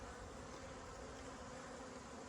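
Honey bees and drones buzzing in a small bee yard at the end of winter, a dense, steady swarm drone that holds continuously and close, with no voices over it.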